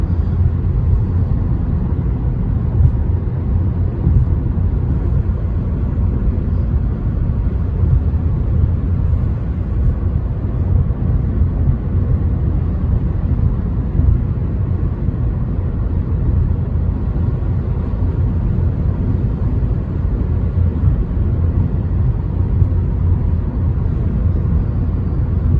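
Steady interior road noise from a 2023 Kia Sportage cruising on cruise control with steering assist engaged, a continuous low rumble of engine and tyres that holds level throughout without speech.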